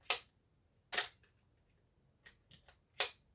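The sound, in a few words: Asahi Pentax Spotmatic SP camera shutter firing at 1/1000 second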